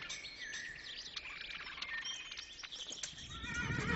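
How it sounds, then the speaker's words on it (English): A horse pulling a cart whinnies over light clip-clopping hooves. It is faint and a bit distant, with birds chirping in the background. "Loaded it into his horse cart"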